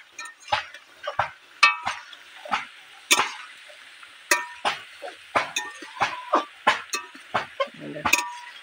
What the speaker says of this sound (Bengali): একটু কড়ার জালটা একটু ভালোভাবে নেড়ে নিচ্ছি।